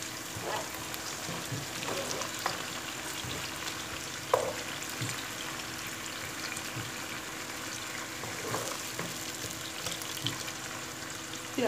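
Onions with red and green peppers frying in a pan and stirred, a soft continuous sizzle with occasional scrape and clatter of the spoon, quiet and close.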